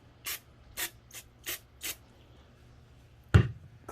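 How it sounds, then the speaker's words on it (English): Short bursts of brake cleaner spray hit the bottom main bearing surfaces of a K24 engine block, five quick hisses in a row, then a louder clunk near the end; close and fairly quiet, with no talking. "I'm going to grab my brake cleaner"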